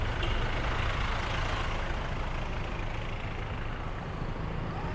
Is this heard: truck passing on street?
yes